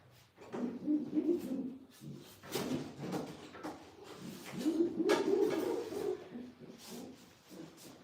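Belgian breeding pigeons coo in low, throaty bursts, with several rounded calls repeating close by amid some shuffling and knocking sounds.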